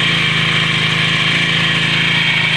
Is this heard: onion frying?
no